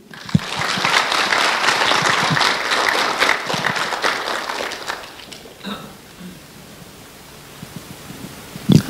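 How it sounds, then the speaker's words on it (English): Applause from an audience at a Canadian Youth Champions award event in Toronto, dense and loud for about five seconds before thinning out, with faint voices and scattered sounds afterward. "So round of applause for Haley."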